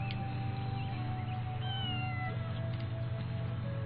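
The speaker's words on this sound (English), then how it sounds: "Hey, this is the cat you're looking for" A cat meows in the video game Wild Arms 5, with short mewing calls over steady game music, no voices.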